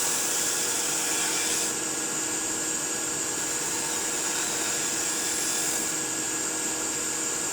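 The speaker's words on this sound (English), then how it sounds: "let's get a spindle gouge here and make this a little bit smaller in there." A spindle gouge cuts a small wooden birdhouse ornament on a lathe, giving a continuous loud whirring hiss with no breaks and a slight shift in tone partway through.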